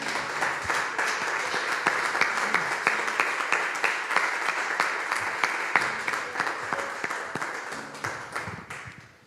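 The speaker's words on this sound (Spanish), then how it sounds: "Le damos un fuerte aplauso al Señor." A church congregation applauds in a dense, steady burst of clapping that fades out toward the end, with no voices over it.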